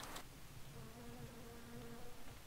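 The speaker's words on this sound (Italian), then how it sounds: "Sento ste cazzo di mosche." Flies buzzing in the Shadow Warrior game, a faint steady insect drone with a brief sharp sound at the start and no speech.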